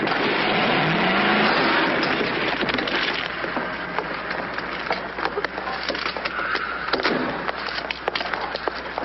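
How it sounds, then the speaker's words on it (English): A car driven recklessly in an old comedy film, its engine roaring and rumbling under a dense, busy layer of film sound effects with scattered sharp clatters, steady and fairly loud throughout. "Pretty reckless driving."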